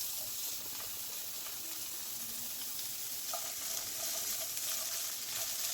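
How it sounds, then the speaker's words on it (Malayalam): Long-sliced carrots sauté in a pan with a steady, moderately quiet sizzle close by, with a few faint stirring clinks partway through and no voices. "ക്യാരറ്റ് ഒന്ന് വഴറ്റി കൊടുക്കാം."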